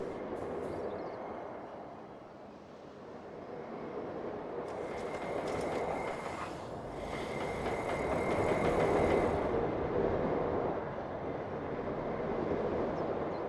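Compact launch roller coaster in the game Planet Coaster 2, a steady rumbling run with rising and falling whoosh, brief metallic screeching in the middle, moderately loud with no talk.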